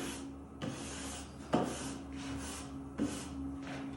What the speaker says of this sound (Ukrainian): беремо ось таку латунну щіточку